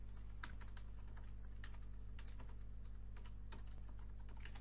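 Someone types on a computer keyboard, a string of quick, irregular key clicks at close range over a steady low hum, with no voices.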